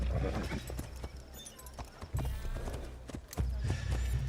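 Horse hooves clip-clopping in Assassin's Creed Shadows, a steady rapid galloping rhythm of hoof beats over ambient game sound, fairly loud and continuous.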